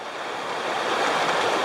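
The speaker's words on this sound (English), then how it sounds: "I made it up to the rapids, and as you can see further up there, the water is moving pretty quick." Fast-moving rapids on the Haw River in North Carolina give a steady, broad rush of water that swells slightly louder as it goes on, with no other sounds over it.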